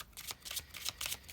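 Tarot cards shuffled by hand, a brief run of quick, soft riffling flutters in close succession, close by and with no talk.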